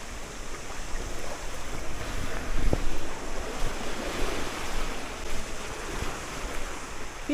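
Steady, rushing surf of ocean waves washing ashore at Orere Point beach, with gusty wind buffeting the microphone and no voices.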